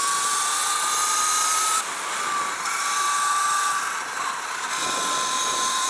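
A KO F-Spec electric motor on a Light Bee electric bike whines loud and steady under acceleration, its high tone climbing in pitch, dropping and climbing again as the throttle changes, mixed with rushing wind.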